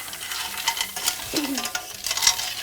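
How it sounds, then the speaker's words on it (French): Clam spaghetti ingredients with turmeric cooking in a pan, a soft steady sizzle with scraping stir strokes and light clinks of utensil against metal, close and fairly quiet. "il est en train de faire cuire le tout."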